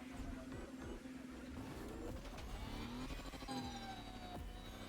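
An electric Lamborghini in a racing video game whines and hums, its synthetic motor tone sliding up and down in pitch as it accelerates, fairly quiet and continuous with no talk.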